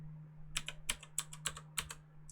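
Quick bursts of typing on a computer keyboard during a video game session: about eight or nine crisp clicks in an uneven rhythm, fairly quiet, over a low steady hum.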